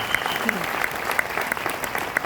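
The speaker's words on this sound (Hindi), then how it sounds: "एक बार मैं चाहूंगा कि आप सभी लोगों के लिए ताली हो जाए" A seated audience at a lifestyle business leader's talk claps in a steady wash of many hands, moderately close, with a few sharper claps and a faint voice underneath.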